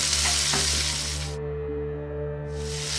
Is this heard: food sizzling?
yes